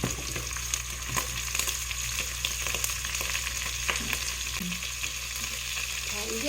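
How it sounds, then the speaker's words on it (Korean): Onion and zucchini stir-frying in a pan, a steady crackling sizzle with light spatula scrapes throughout, alone without voices. "이제 또 열심히 볶아줍니다."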